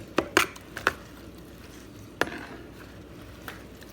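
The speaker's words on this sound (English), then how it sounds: "Okay, stir it up" A spoon stirring a dip in a bowl, a few sharp clinks and knocks against the sides early on, then a single tap and quiet pauses.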